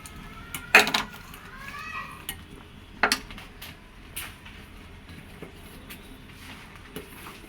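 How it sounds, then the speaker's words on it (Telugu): A spoon scrapes and knocks against a pot while oats cook with jaggery for a sweet breakfast porridge, with a couple of loud metallic clanks and softer scraping strokes in between. "బెల్లం వేసుకొని నిదానంగా కలుపుతూ చూసుకోవాలి, అడుగంటకుండా."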